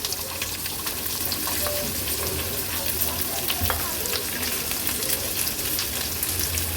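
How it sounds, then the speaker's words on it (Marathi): Chopped onion, three green chillies, mustard seeds and cumin sizzling in hot tempering oil, a dense, steady crackling hiss close up throughout, with faint kitchen clatter and no talking. "अर्धा चमचा राई अर्धा चमचा जिरं एक मीडियम साईजचा कांदा आणि तीन हिरव्या मिरच्या अशा मी चिरून घेतल्या आहेत त्या फोडणीला घालूया"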